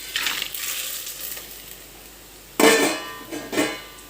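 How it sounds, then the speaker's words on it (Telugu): Ghee hits a hot pan for vegetable khichdi: a soft hiss at first, then a loud, crackling sizzle erupts, fades, and flares again with light pan and utensil clinks, close up. "వేడెక్కిందండి, ఆయిల్ను నెయ్యి వేసేసుకుందాం."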